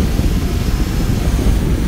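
An MJX Bugs 3 Pro quadcopter drone takes off on a windy beach. Its propellers give a loud, steady whirring roar, mixed with rumbling wind noise and no talk.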